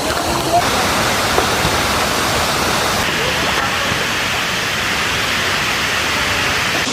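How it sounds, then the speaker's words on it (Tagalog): Tinago Falls waterfall roaring close by, a loud continuous broadband rush of falling water that fills the whole stretch without a break. "One of the best waterfalls experience ko kay diri sa Tinago Falls."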